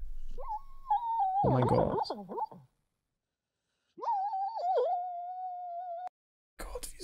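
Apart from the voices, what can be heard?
dog whimpering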